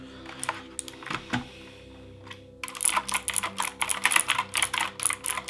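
Typing on a Razer BlackWidow V4 Pro clicky mechanical keyboard: a couple of isolated taps, then a rapid close-up burst of sharp, crisp key clicks in an uneven rhythm, with no talking over it.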